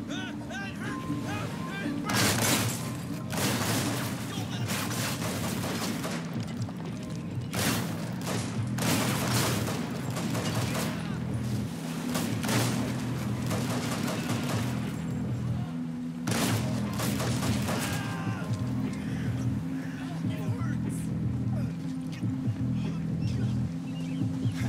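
Gunfire in the video game Hatred, level set at a marina: repeated bursts of loud shots and booms crackle throughout over a constant low rumble, with radio-style speech coming in between.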